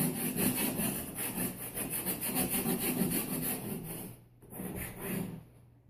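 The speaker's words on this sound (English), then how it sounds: "I'm going to take my scraper and I'm going to go over the top of the letters" A scraper rubs back and forth over vinyl letters stuck on a wall, giving steady rhythmic scraping strokes for several seconds, then a brief pause and a few more strokes before it fades.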